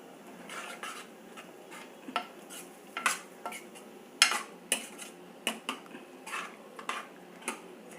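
Taro root pieces being stirred and sautéed in oil in a pan, with scattered light clinks and scrapes of a spoon against the metal vessel at an irregular rhythm, close and moderately quiet, no talking.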